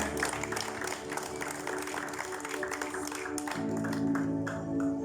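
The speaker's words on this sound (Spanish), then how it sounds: "Démosle un fuerte aplauso al Señor por las pruebas." Church congregation claps during a Spanish-language sermon, a moderate crowd applause heard at some distance under voices and sustained organ or keyboard tones.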